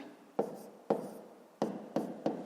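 Numbers are written by hand on paper with a pen during a maths exercise, five short scratchy strokes at uneven intervals, close and soft.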